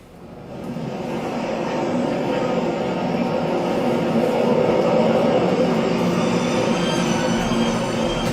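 A subway train runs with a loud, steady rumble that builds up at the start and holds as one continuous roar.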